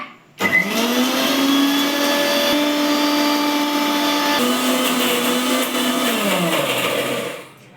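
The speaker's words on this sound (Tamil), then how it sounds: "மிக்ஸி ஆன் பண்ணி ஸ்டார்ட் பண்ணிடலாம் வாங்க." A mixer grinder whirs loudly and steadily for several seconds after switching on, its motor pitch holding even before winding down at the end.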